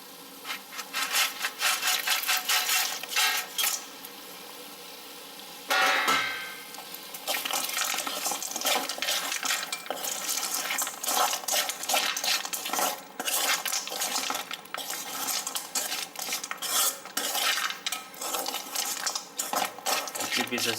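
Fried leftover idli pieces stirred into tomato-based Manchurian sauce in a pan, a steady close scraping and rubbing of a spatula across the pan with a brief pause partway through.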